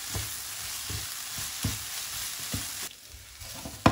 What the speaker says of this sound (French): Je mélange bien l'ensemble, feu moyen, pendant une petite minute.